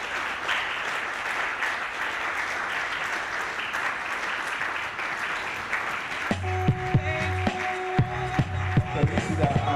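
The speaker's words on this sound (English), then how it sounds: "please give them a round of applause" Crowd at the 7th African Conference on One Health and Biosecurity applauds conference secretariat staff with steady, dense clapping for about six seconds, then rhythmic music with thumping beats enters.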